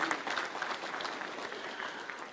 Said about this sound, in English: Let us give him a clap.